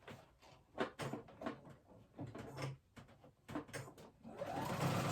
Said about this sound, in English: We're going to grab our 2 elastic ends and we're going to overlap them and sew them together. I use a zigzag stitch for that part.